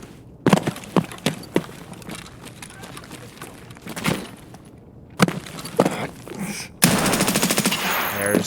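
Full-auto gunfire in the video game Escape from Tarkov, with sharp short bursts and single shots spaced through the clip, one longer rattling burst near the end, and someone talking in between.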